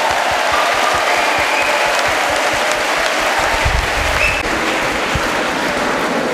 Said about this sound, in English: by a huge round of applause